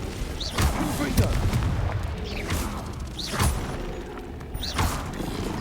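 Magical blasts and booming impacts from the Confringo fire spell in Hogwarts Legacy, repeated several times amid creaking mechanical game effects, with a voice speaking over the battle sounds.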